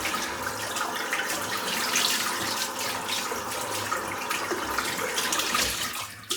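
A tap runs water steadily into a sink, a continuous close rushing hiss with no voices, easing slightly near the end.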